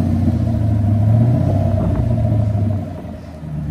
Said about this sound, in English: It don't rev that high.